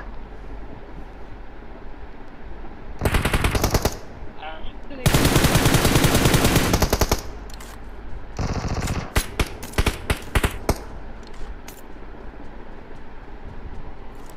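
Bursts of machine gun fire in a video game rattle out loud and close, several long sustained volleys followed by a string of shorter, choppy bursts over a low background hum.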